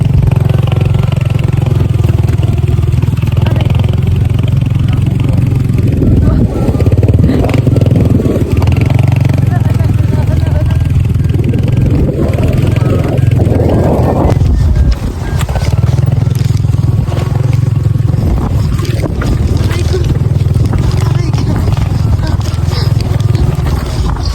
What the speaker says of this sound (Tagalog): sabi ko nga kay Karang hindi ko na talaga kayang sumakay sa motor dahil talaga ako inanervyos na.